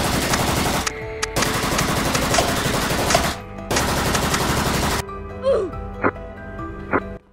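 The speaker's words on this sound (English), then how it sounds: "Shoot him, Black!" Loud, sustained automatic gunfire in the Roblox Brookhaven roleplay game, long continuous bursts broken by short gaps, then a few sparse single shots over quieter in-game sounds.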